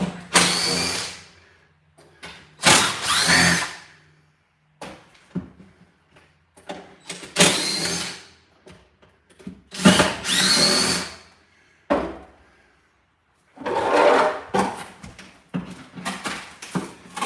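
Power drill backing screws out of a bus floor during a conversion build, running in repeated whirring bursts of a second or two each, separated by pauses and a few clunks.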